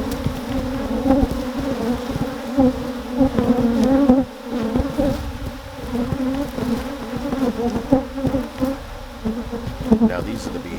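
Aggressive honeybees buzzing around hives in an apiary yard, a dense, continuous drone of many insects with individual bees swelling louder as they pass close, steady and unbroken throughout.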